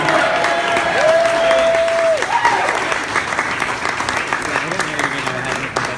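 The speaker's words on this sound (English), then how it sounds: "Ladies and gentlemen, a good round of applause out there for Nick and Amy." Wedding guests applaud the newlyweds Nick and Amy after a best man's toast, loud sustained clapping from a close crowd with a few voices and a brief whistle-like tone rising over it early on.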